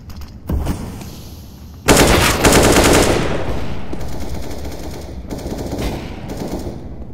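Counter-Strike: Global Offensive gunfire: a brief early shot, then a loud sustained burst of rapid automatic fire that trails into scattered shots and reverberating echoes, with no talk.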